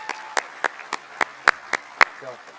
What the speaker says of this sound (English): Please give a round of applause to those 6 individuals.